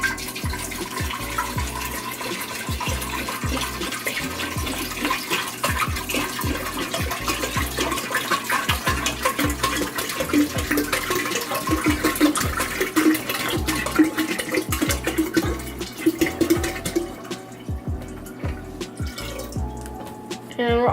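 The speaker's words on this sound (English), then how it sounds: "we're going to go ahead and add the rest of our water to the fermenter" Steady rushing and splashing of water poured into a kombucha fermenter, continuing for a long stretch with dripping, then fading toward the end.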